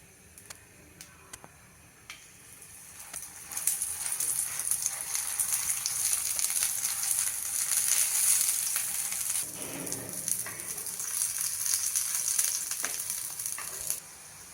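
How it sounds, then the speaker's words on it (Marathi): An envelope paratha frying in butter on a hot griddle, a soft crackling sizzle that swells after a few seconds and holds steady, with faint scattered pops and clinks. "तव्यावर बटर घालते आहे आणि केलेला लिफाफा पराठा आपला आपण तव्यावर"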